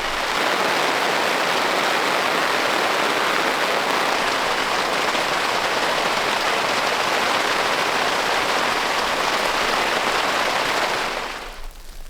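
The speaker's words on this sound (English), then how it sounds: "The rain has died down just enough to be able to come out here for a minute." Heavy rain patters densely and steadily on a tent overhead while camping, a constant loud hiss that cuts off abruptly at the end.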